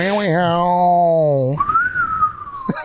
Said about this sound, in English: You got to get your whistle skills